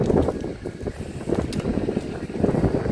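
Steady roaring wind buffets the microphone with low rumbling gusts, loud and continuous throughout.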